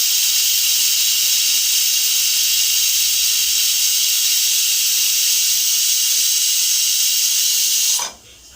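Steady, loud pressure cooker whistle hissing continuously while dal cooks on the stove, a long unbroken jet of steam that cuts off abruptly near the end.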